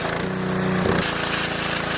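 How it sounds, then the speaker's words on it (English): A pressure washer spraying a Lego minifigure gives a loud, steady hiss of water jet and motor drone that starts a moment in and continues unbroken throughout, close and alone without talk. "And this is a pressure washer."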